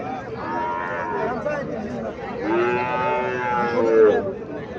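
A calf moos at the Mirshanni cattle market in Cumilla, giving a couple of drawn-out, close bellows over a constant murmur of the market crowd.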